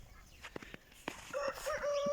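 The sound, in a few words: chickens clucking and rooster crowing at outdoor coop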